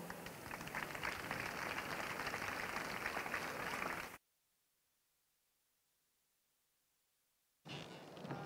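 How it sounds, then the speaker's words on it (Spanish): Audience applause at a festival presentation of a queen and court of honour, dense steady clapping from a crowd for about four seconds, then silence before the clapping briefly resumes. "Recibámoslos con un fuerte aplauso."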